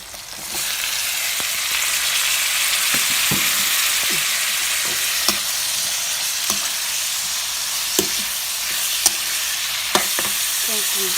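Snails stir-fried with holy basil in a pan, a steady loud sizzle throughout with scattered scraping clicks of a utensil against the pan, no talking.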